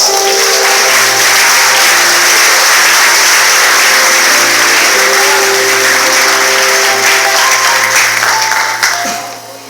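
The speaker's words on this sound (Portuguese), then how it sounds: "Se pode aplaudir Jesus" A church congregation at an anniversary congress applauds Jesus, a loud, sustained swell of clapping mixed with sustained musical tones underneath, fading slightly at the end.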